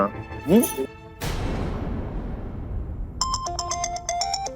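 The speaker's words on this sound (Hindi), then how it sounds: "छोटे का फोन" A short burst of noise gives way to a phone ringtone, a bright electronic melody of repeating tones that starts partway through and continues.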